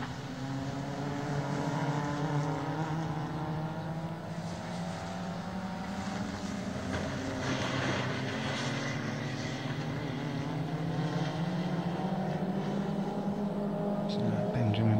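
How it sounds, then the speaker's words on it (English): A rallycross car accelerates away at Blyton Park, heading up to the hairpin: a continuous, moderately distant engine drone with rising, sweeping pitch, heard beneath steady commentary. "Benjamin Bartlett accelerates away from the little wiggle there up to the hairpin at the far end of the track"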